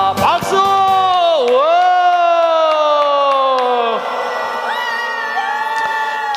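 A group at a church-style gathering lets out loud sustained cheering and whooping, voices rising and sliding together in long shouted tones for several seconds, with little distinct clapping.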